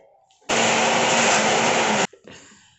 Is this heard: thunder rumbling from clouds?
no